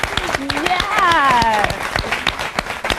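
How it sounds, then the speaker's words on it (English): Studio audience applauding guests at a 2000 fan conference with Cher, steady clapping throughout, with a voice speaking over it partway through. "Let's give them a round of applause."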